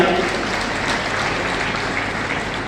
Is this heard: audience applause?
yes